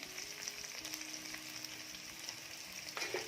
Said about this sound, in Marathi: कांद्याचा रंग बदलेपर्यंत छान भाजून घेऊया। कांद्यासोबतच लसूण टाकायचं आहे।